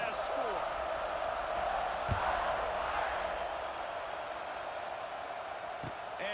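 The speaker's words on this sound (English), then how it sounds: "this crowd is buzzing after that last score" A football stadium crowd buzzes after a score in a Kansas City game against Notre Dame, a continuous roar of many voices with scattered shouts and whoops, with a commentator talking over it.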